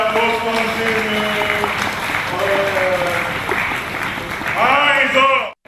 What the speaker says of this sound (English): Please let's put a round of applause.